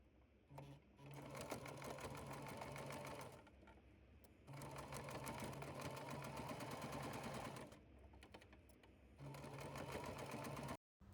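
A sewing machine stitches the pinned seams of a fabric make-up bag, running in three steady, close, humming bursts separated by short pauses.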